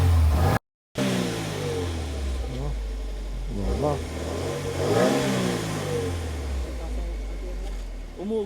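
A Subaru WRX engine revs up and drops back several times, rising and falling in pitch, with a voice speaking over it.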